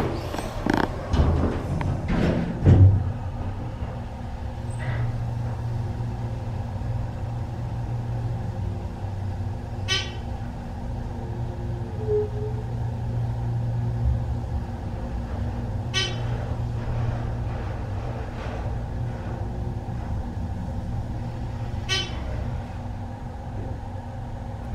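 Dover Impulse hydraulic elevator at a college science building riding between floors, a steady low motor hum throughout, a clunk near the start and three faint periodic tones from the noisy bumpers and car.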